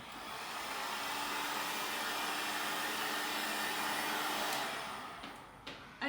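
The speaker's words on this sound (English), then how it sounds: "I just need to take my heat gun quickly" Heat gun blowing a steady, loud, broadband hiss while warming a crystallized chocolate mould, sustained for about five seconds before cutting off, followed by a few small clicks.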